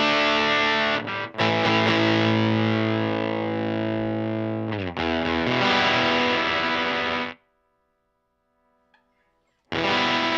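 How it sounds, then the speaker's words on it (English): A heavily distorted electric guitar played through a pedal rig, thick sustained chords that cut out briefly twice, then stop into near silence before a final loud burst returns at the end. "I use it more of as a distortion."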